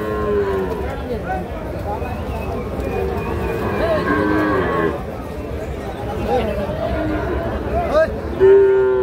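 Sahiwal calves at a cattle market in Narsingdi, lowing in long, loud, close moos that overlap with steady crowd chatter and people talking nearby.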